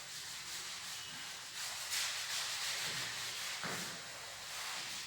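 A teacher rubs out writing on a board in a Hindi class, giving a soft, continuous scrubbing swish with a few stronger strokes, fairly quiet and with no talking.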